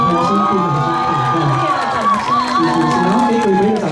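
A concert audience at an outdoor memorial music evening in Liuying, Tainan, cheers and screams loudly and continuously, with applause mixed into the dense crowd roar.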